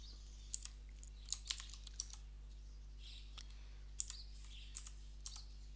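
Computer keyboard keys clicking in short bursts as code comments are typed, close and crisp, with pauses between groups of keystrokes and a steady low hum underneath.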